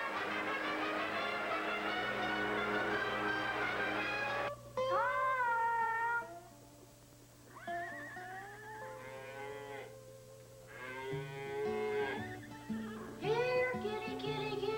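Cat meowing in a cartoon shown during a halftime broadcast, a series of loud, drawn-out wavering cries with gaps between them, heard over a steady musical background.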